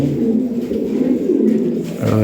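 Fancy Lahore pigeons kept for sale coo in low, throaty, repeated calls close by, with someone talking over them.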